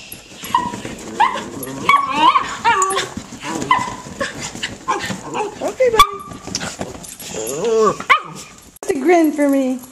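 Pinscher puppies yip, bark and whimper in high, squeaky bursts close by, overlapping with someone talking softly to them throughout.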